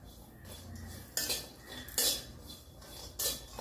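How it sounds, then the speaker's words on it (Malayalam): Dried coconut (copra) being roasted on low flame in a pan, with three distinct scraping clinks of a utensil stirring it against the metal, quiet and close. "ഈ ഒരു കൊപ്പര വറുത്തെടുക്കുന്നുണ്ട്"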